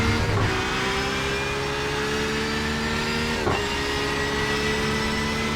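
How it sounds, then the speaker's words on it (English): Race car engines scream at Le Mans in iRacing, GTE sportscars at high revs holding a steady loud drone with dense harmonic whine, a brief dip near the start and another pass midway, no talk. "Cars with the engines just screaming to 175 before they finally hit the brakes here."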